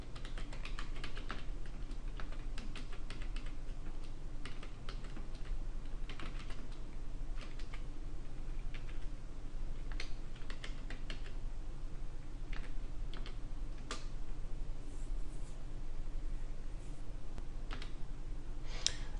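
Someone types a netsh command on a computer keyboard: continuous, fairly quick keystrokes with occasional heavier key hits, close and steady and with no talk.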